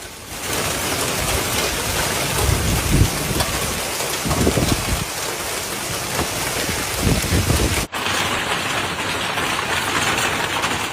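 Powerful hailstorm in southern France, with hailstones falling hard in a dense, continuous drumming clatter, joined by low rumbling bursts and a brief sharp cut near the end; no voices.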